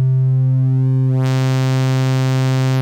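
A Waldorf Iridium synthesizer plays a sustained analog waveform that is being warped, a steady buzzing tone whose upper harmonics suddenly brighten partway through, loud and alone with no voices.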